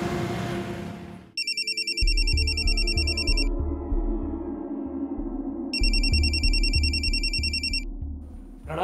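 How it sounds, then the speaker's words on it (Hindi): A telephone rings in a household scene in two electronic bursts of bright repeated trills, with a low rhythmic pulse running underneath and no one speaking. "इतनी देर से तुम्हारे फोन की घंटी बज रही है"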